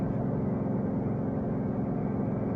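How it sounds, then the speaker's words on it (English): Dense, steady low engine drone and road roar as a big rig truck pulls up alongside on the highway, loud and continuous for a brief stretch, no talking. "A big rig coming up next to us, and they got some horsepower."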